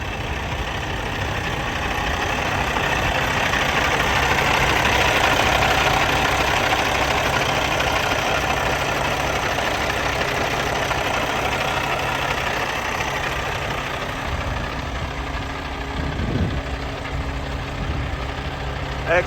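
A 2019 Kenworth T800 heavy-spec daycab truck engine idles steadily and close by, with a low, continuous diesel rumble for the full stretch and no talking.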